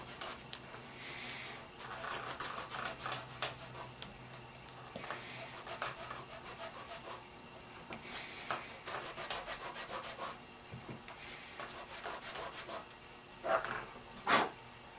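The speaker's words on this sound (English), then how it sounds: "And then we'll sand a bevel onto the back end of the cork." A bevel is sanded onto the back end of a replacement tenon cork for an Emerson instrument, giving a soft, continuous scratchy rubbing that rises and falls in repeated strokes at close range, fairly faint throughout.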